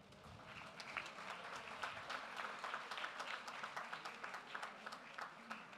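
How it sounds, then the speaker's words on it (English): Steady applause from a crowd at a college graduation ceremony, dense clapping sustained without a break and heard at a moderate distance. "we need a bigger round of applause than that"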